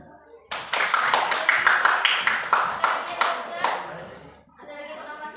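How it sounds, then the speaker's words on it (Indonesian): Classroom of students clapping hands, a rhythmic patterned group clap with distinct evenly spaced beats, close and lively, ending abruptly, with a voice speaking after it. "Oke, tepuk tangan."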